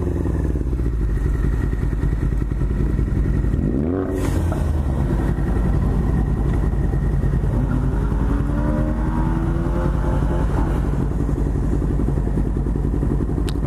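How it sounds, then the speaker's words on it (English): A car doing a burnout, its engine roaring loud and continuous for over ten seconds, with a thud and clatter early on and rising rev sweeps later. "My brother just did a burnout."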